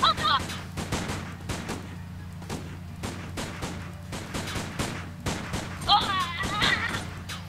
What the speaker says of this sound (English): This actually isn't a bad way to practice shooting things in this game.